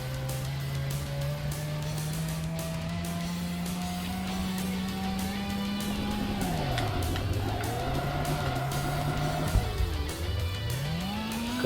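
A race car drifts through a mountain racing game, its engine droning steadily and climbing in pitch, then dipping and rising again as it slides through corners, with tire noise underneath, loud and close throughout.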